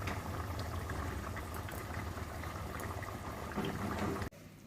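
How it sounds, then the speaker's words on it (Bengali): Soybean chhana muitha curry boils in a pan with a soft, steady bubbling and low simmering hiss that runs evenly, then cuts off abruptly near the end. "দেখুন এটা আমার ফুটছে"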